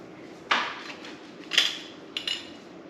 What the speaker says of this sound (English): Put your rings on, or your lids on, and then the rings finger tight.